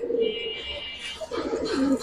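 Pigeons coo in a couple of soft, throaty bursts, fairly close and steady, with a faint chirp-like high tone drifting above; one of the three birds kept is a hen collected from a good source, the other two are males.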